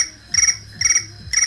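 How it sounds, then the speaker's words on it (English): Cricket chirping sound effect played from an iPhone, three loud, evenly spaced trilled chirps close up with quiet gaps between them. "Would that be crickets chirping in the background?"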